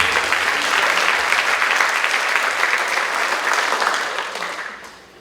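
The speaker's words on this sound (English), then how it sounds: "Let's clap." Audience applause at a congressional town hall, a loud sustained clapping crowd that holds steady for about four seconds before fading out, with no speech over it.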